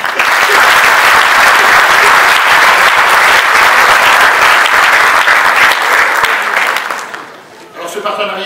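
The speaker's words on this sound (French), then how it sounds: "je vous demande donc d'applaudir chaleureusement" Loud, dense applause from a graduation ceremony audience for a business school graduate, sustained for about seven seconds before tapering off, with a little faint sound lingering after.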